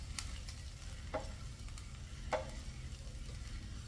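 Garlic and vegetables fry in a pan on a stove, a soft steady sizzle with a couple of faint utensil scrapes; quiet and close, with no talking.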